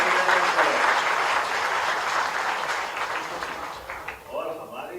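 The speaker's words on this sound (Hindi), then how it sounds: "जोरदार ताली बजा करके अच्छे अभिनंदन करें।" An audience at a BJP welcome ceremony at the Chief Minister's residence in Bhopal breaks into loud, dense applause that holds for several seconds, then thins and fades as a voice begins speaking over a PA.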